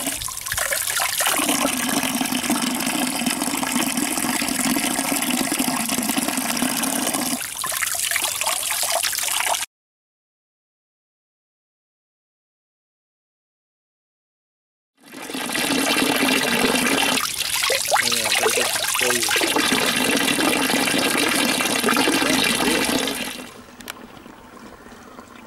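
Water pours from the Andreas Spring in Oetmannshausen, Hesse, Germany, a loud, close, steady splashing rush that cuts to silence midway, then resumes and thins out to a quieter trickle at the end.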